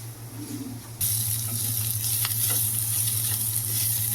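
Chopped ivy gourd and onion pieces sizzle loudly in a hot pan while being stirred. After the first second a bright frying hiss swells and holds, with occasional soft scrapes.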